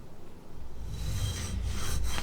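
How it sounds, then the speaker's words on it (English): A reed knife being sharpened on a stone with a wedge angle guide: a close, continuous gritty rasp of steel scraping across stone, starting faintly and then growing louder as the strokes build up. "So I'm going to start with the number 18 wedge. For the front of the knife, I use the small tab on the back of the knife"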